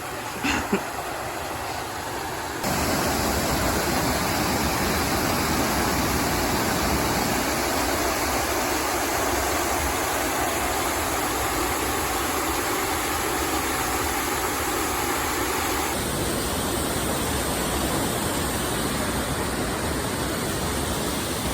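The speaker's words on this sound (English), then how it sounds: "Loving this waterfall, loving this little walk here, taking our time." A waterfall beside an Appalachian Trail path flowing toward the Kennebec River, a steady broadband rushing roar that swells louder partway through and stays constant, fairly close, with no talking.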